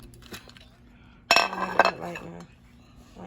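Spoon clinking against a dish of hot cheese grits, a quick flurry of sharp metallic taps and scrapes standing out over quiet room noise.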